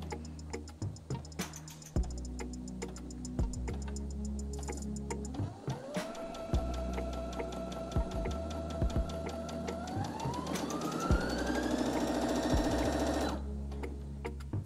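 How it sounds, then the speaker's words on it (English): A beginner's sewing machine stitching fabric starts slow with a steady ticking stitch rhythm, then its motor whirs up as the speed slider is raised, pitch climbing before it stops abruptly near the end. "I was increasing the speed with this slider here, and then I just pressed the start stop button to stop sewing"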